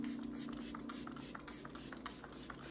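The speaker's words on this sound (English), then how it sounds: "We're gonna take the Makeup by Mario Surreal Skin Soft Setting Spray, and we're gonna melt the powders together" Makeup by Mario Surreal Skin Soft Setting Spray mists onto a face in a series of short, quick hissing pumps, close and fairly quiet, without speech.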